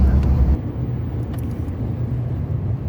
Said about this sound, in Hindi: गाड़ी चल रही है, गाड़ी बंद नहीं हुई।